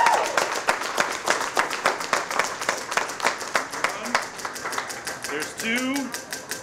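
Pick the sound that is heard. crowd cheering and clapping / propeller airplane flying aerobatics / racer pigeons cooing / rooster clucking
crowd cheering and clapping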